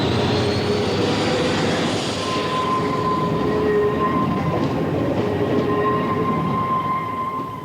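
A British Rail Electra electric locomotive runs along the line, a continuous loud rushing roar with steady tonal whines from the traction equipment, sustained throughout without voices.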